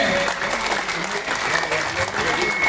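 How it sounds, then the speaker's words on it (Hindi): A youth team claps continuously while welcoming Vikram Singh Jakhal with a large garland in Gothara, dense sustained applause with someone talking over it. "पूरी युवा टीम तालियों के साथ में"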